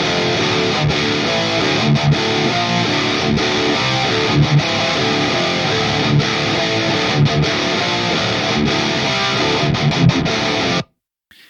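Soloed distorted electric guitars run through an ML Sound Lab Amped Fluff 2C amp plugin with stock settings, a dense, loud and continuous riffing wall that carries on steadily before cutting off abruptly near the end.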